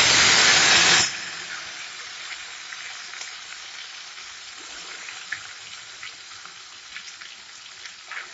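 Marinated Lote fish dropped into hot mustard oil in a wok, a loud burst of sizzling at the start that settles into a steady, quieter crackling fry with scattered pops.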